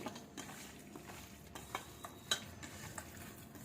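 Chicken fry ingredients stirred and mixed in a pan with a spoon, soft scraping and light clinks repeating in an irregular rhythm over a faint sizzle, close and fairly quiet.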